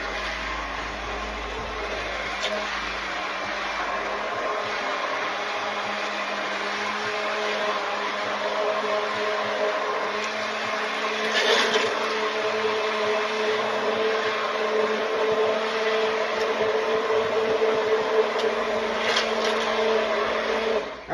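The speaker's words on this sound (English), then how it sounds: "We're gonna take that back to our old friend, the burr mixer or the hand immersion blender, and we're gonna make this nice and smooth." A hand immersion blender runs continuously to purée a sauce smooth, a steady close whirring motor whine that rises briefly in pitch midway as it works through the mixture, with no talking over it.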